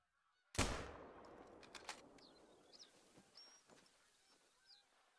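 A single loud hunting-rifle shot in theHunter: Call of the Wild cracks out and rolls off in a long fading echo, with faint honking birds calling in the distance afterward.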